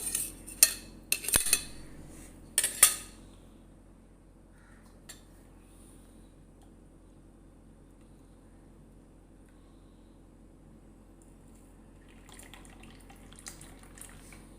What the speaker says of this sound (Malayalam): നമ്മളെ ടൊമാറ്റോ സോസ് അതുപോലെ തന്നെ ഐസ് ഇട്ട് കൊടുക്കാം